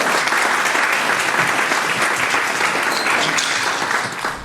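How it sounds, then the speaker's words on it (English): A live podcast audience applauds for Skoda, a dense, sustained wash of clapping filling the room, steady and loud before tapering slightly at the end. "Can we have a round of applause for Skoda?"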